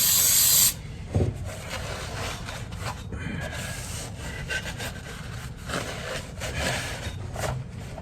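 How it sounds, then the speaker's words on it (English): Brake cleaner sprays onto a Cub Cadet 12HP small engine near the head gasket area, starting with a loud, close hiss that gives way to a softer, steady spraying and dripping rush with no talking. "I cleaned this all off, but we'll do it one more time. Just use brake cleaner."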